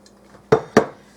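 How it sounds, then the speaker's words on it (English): Two quick, bright clinks of a whisk against a bowl while baking powder and salt are stirred together, close and crisp with near-silence around them. "you're just going to give that a quick whisk"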